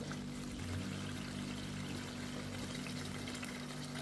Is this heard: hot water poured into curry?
yes